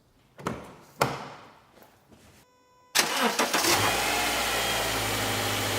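A car engine is cranked from a battery during an alternator test: a few separate starter pulses and a whirring crank, then the engine catches with a loud burst and settles into a steady idle close by.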